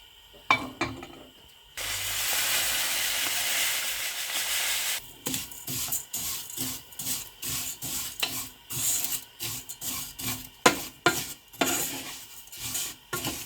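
Vermicelli noodles fry in ghee in a pan, with a steady hiss of sizzling and then rapid, irregular scraping and stirring strokes of a utensil against the pan, close up and with no voices.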